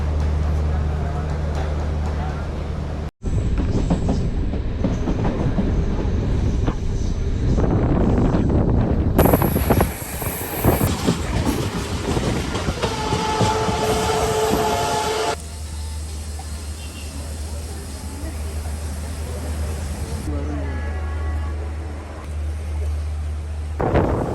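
A passenger train in Jaffna rumbles steadily from inside the carriage, with loud continuous rolling noise and wind buffeting over the whole stretch. Voices talk over parts of it.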